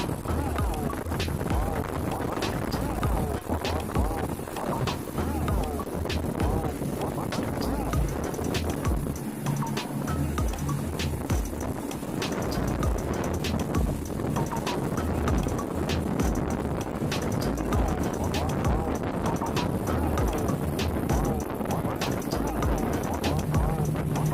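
Passenger speedboat, the Raja Wali Express, running at about 80 km/h through large waves, giving a steady loud engine roar with wind buffeting and water slapping throughout, while voices talk over it.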